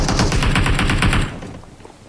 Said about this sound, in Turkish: vurdum adama ve o da bana bayağı vurdu